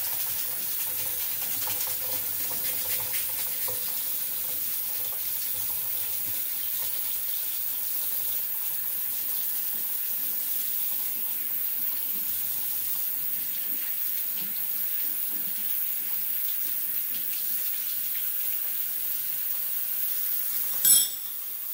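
Parts of a Seydel Symphony harmonica being washed with dish detergent under a running tap, a steady close rush of water into a sink lasting about twenty seconds, ending with a brief sharp knock.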